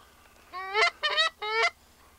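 Three loud, nasal goose honks in quick succession during a hunt over decoys, close by against a quiet background.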